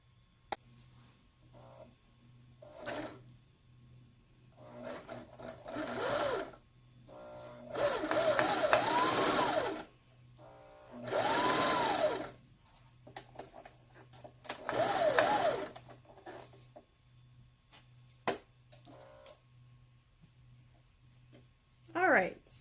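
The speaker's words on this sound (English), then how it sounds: "show you how to sew it directly into fabric" A sewing machine stitches foam clay onto fabric in several bursts of steady whirring, separated by short pauses, near and clear.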